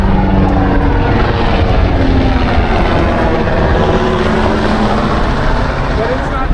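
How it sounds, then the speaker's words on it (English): A helicopter flies overhead near the Getty property in Pacific Palisades, Los Angeles, during a wildfire, its loud rotor and engine rumble held steady throughout, joined by broadband wind or water noise. "chopper above here."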